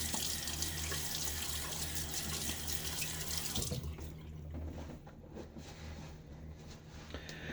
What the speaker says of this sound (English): A little water on my face.